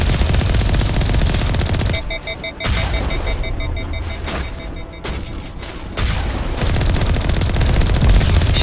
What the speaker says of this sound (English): He's going to be shooting at me from here.